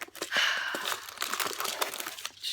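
A small paper envelope crinkles and rustles up close as it is opened, with a short series of crisp crackles and tearing sounds at low volume.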